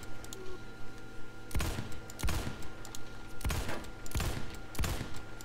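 Gunshots ring out from a weapon in the shooter game Phantom Forces, about six sharp reports at irregular intervals over a faint background of keyboard clicks.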